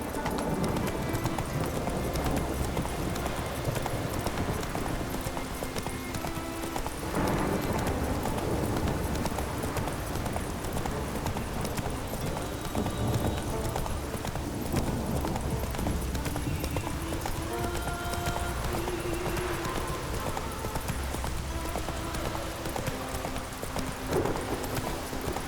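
Horse hooves clip-clopping at a gallop in the video game The Witcher 3, a steady rhythmic pounding that stays close and loud throughout, mixed with game music and ambient noise, with an occasional faint whinny.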